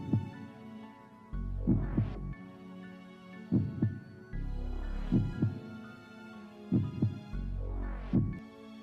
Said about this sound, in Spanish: era el latido del corazón del oriental